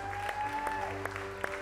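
Church congregation clapping to acclaim the Lord, a soft steady patter of hands in a reverberant room with a few sharper claps, while a voice speaks faintly underneath.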